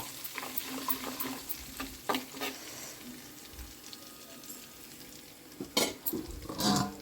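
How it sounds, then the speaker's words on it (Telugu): Garlic frying in a little oil in a pan gives a soft sizzle, with intermittent clinks and scrapes of stirring, quiet and close, with no talking. "కొంచెం నూనె చల్లగానే వెల్లుల్లిపాయలు వేసినాం"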